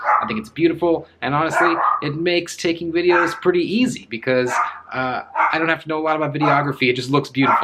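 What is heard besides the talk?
dog barking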